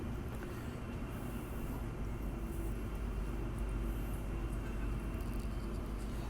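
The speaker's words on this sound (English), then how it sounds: "These are brand new trains, and it's really a great experience on the train." Steady low rumble and rattling hum inside a brand-new commuter train in motion, continuous and even throughout.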